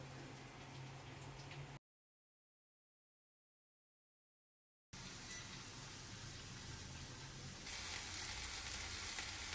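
Onion and whole garlic frying in mustard oil, with a soft, continuous sizzle and crackle that breaks off into a silent gap for about three seconds, then returns a little louder, with no talking.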